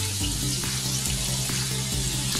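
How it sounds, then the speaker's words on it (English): Chopped onions and green onions sizzle loudly and continuously in a hot pot, close by, with a few soft stirring knocks and no talking. "now we're going to add our onions to the pot. Onions, including the green onions."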